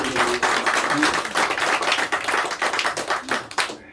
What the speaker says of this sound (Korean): 감사용장의 박수를 보내드리겠습니다